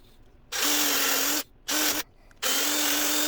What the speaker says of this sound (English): I'm gonna flip it over and drill back through this side